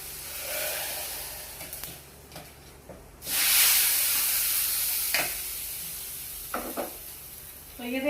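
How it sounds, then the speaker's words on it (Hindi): Hot tadka tempering is poured into cooked dal, bursting into a loud, hissing sizzle that slowly settles, followed by a few soft stirring and clinking sounds nearby. "और अब तड़का डाल देती हूँ इसमें।"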